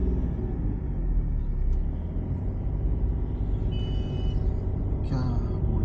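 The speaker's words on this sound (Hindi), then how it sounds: "पूरा ट्रैफिक जाम कर दिया है." Road traffic jam in India on a Pune to Bhusawal drive, with a steady close low rumble of idling and creeping engines throughout, a brief high tonal beep partway, and a short hiss near the end.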